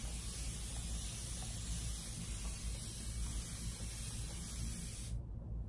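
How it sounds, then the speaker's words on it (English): A spray bottle mists water onto natural hair in a soft, steady hiss for several seconds with no pauses, then cuts off abruptly, leaving near silence. "I'm just taking my spray bottle."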